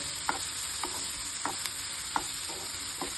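Ripe nenthra banana stirred and fried in ghee in a pan, a steady soft sizzle with a few distinct scraping stir strokes spaced about half a second apart.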